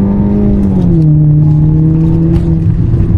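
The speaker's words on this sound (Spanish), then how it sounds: "Y acelerador a fondo." Car engine revving hard at full throttle while overtaking on a highway in a manual-transmission car, a loud steady drone with the pitch climbing then holding, close and continuous with no talk.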